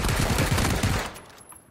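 Rapid automatic gunfire from a video game shootout inside a multi-floor building, a dense loud burst for about a second that then fades out, with no talking.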